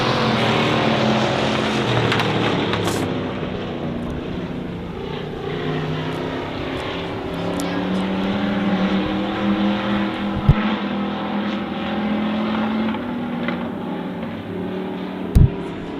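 Race cars roar loudly around the oval at Honor Speedway on the final lap of a feature race, a continuous engine drone rising and falling as the pack passes, with a couple of sharp clicks near the end.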